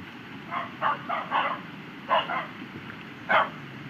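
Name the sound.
two dogs barking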